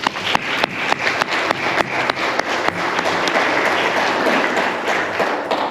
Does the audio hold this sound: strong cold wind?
no